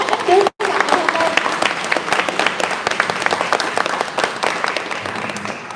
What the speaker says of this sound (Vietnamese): xin quý vị cho một tràng pháo tay cho các quân lực Việt Nam Cộng hòa của chúng ta